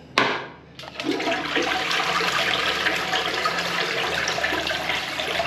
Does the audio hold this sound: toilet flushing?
yes